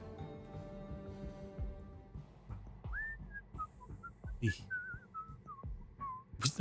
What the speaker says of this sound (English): Whistling cheerfully.